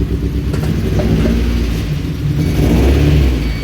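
A 1991 Mazda Miata engine just brought back to life after a gas tank replacement, running loud and close with a rough, uneven idle and a rise in revs toward the end.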